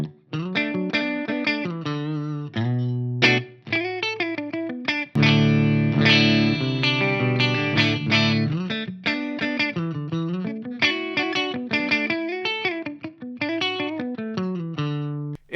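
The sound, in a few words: guitar preamp bass shift parameter, off then on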